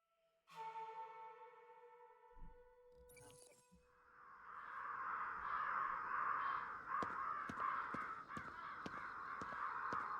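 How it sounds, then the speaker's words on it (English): Crows caw repeatedly in Ghostwire: Tokyo, a dense chorus of harsh calls that builds after a few seconds and carries on steadily, with tonal ambient game sounds at the start. "And back to these goddamn crows."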